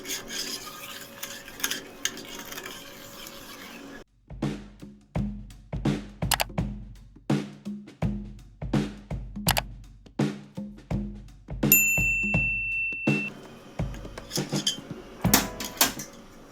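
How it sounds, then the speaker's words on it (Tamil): Eggs and sugar whisked by hand in a bowl for homemade cake cream, making a steady run of close, rhythmic scraping and clinking strokes of the whisk against the bowl, with brief pauses between bursts. "இப்போ நம்ம ஆல்ரெடி ரெடி பண்ணி வச்ச முட்டையை இதில் வச்சு இந்த மாதிரி மிக்ஸ் பண்ணிகிட்டே இருக்கணும்"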